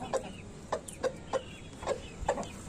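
An Aseel rooster calls to a hen with a run of short, evenly spaced clucks, about seven in quick succession, fairly faint and close with no talking.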